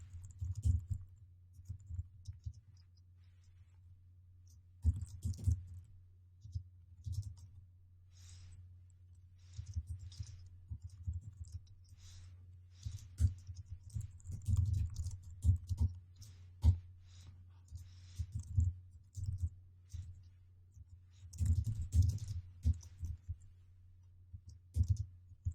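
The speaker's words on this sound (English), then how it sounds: "I'm going to type the following." Computer keyboard typing while writing C# code, a steady run of soft close key clicks with brief pauses, alone over a low background hum.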